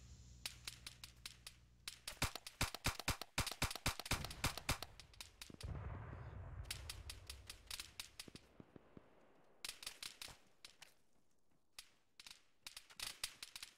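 Rapid bursts of gunfire in a video game: sharp, close shots fired in quick rattling volleys, broken by short pauses and one boom that rolls away, with no voices over it.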